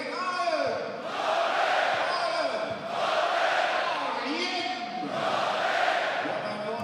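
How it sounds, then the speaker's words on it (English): Home football crowd at FC Bayern's Legends Cup rhythmically chanting Arjen Robben's name, loud swelling waves of massed voices in about three repeated surges with a brief dip between. "The home crowd enjoying chanting the name of Arjen Robben once again."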